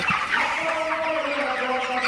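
Nearly two-kilogram broiler chickens on a farm at night keep up a dense, continuous murmur of soft clucking, the whole flock close by.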